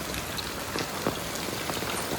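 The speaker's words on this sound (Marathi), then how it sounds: "पाऊस आता बाहेर खूप आहे" Heavy rain pours steadily outdoors during a flood, a dense, constant hiss with scattered closer drops and splashes, no voices.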